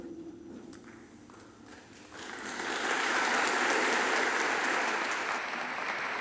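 Long applause from a congregation in a church in Treviso, starting moderate with some scattered footstep-like noise, then swelling into sustained, dense clapping that fills the space for several seconds.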